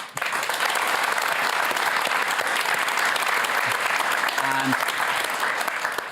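Audience breaks into applause that swells quickly and stays dense and loud, a continuous roar of many clapping hands with a brief voice surfacing near the end.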